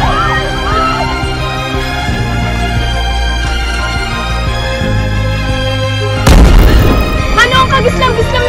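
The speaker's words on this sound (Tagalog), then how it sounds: "May pumutok na bomba sa tabing ilog!" A bomb bursts by a riverside: a sudden loud boom breaks in partway through, over a steady background of droning tones and busy scene sounds, with a voice briefly audible.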